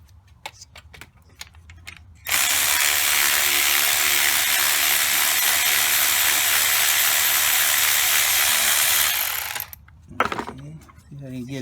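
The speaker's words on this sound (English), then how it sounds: "Now this is a 14mm. There's that booger. Let's break it loose. Let me use the cordless." A cordless power tool breaks loose a 14mm bolt on a 2007 Pontiac Vibe during starter and cooling fan work, with a loud continuous whirring burst of about seven seconds between quieter handling clicks.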